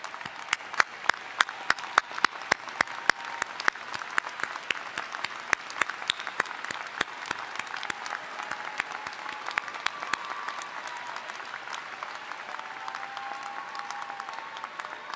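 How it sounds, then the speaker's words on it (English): Audience applause at a 2019 SHU undergraduate commencement, honoring graduates' supportive family members: a sustained, steady wash of many hands clapping across a large hall, moderately distant and without talk. "graduates, please give them a round of applause"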